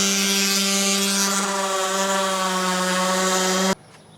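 A DEWALT 20V DW210B random orbital sander runs with a steady, tonal motor whine and buzz, close and loud, then cuts off abruptly near the end, leaving a faint room tone.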